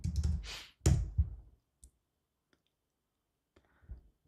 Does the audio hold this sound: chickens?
no